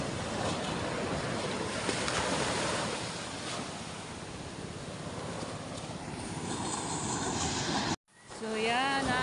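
Sea waves rolling onto the shore at Bukana, a broad continuous wash of surf with wind, fairly loud and steady, cut briefly near the end before resuming.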